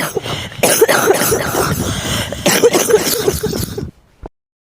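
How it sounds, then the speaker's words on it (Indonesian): Coughing from a horror cartoon about a cough plague sweeping Konoha village: a loud, rapid run of harsh coughs lasting several seconds, ending abruptly in silence, followed by one short final burst. "orang batuk, refleks nggak bisa ditahan"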